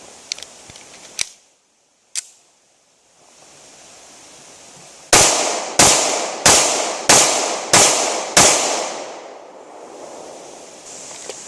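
A Smith & Wesson M&P45 Shield .45 ACP pistol fires a rapid string of six loud, close shots at a range, each followed by a short echo, after a couple of quieter clicks and handling noises.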